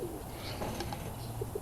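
An Old Fashioned Frill cross pigeon coos softly nearby, a few short low notes over a faint steady background hum.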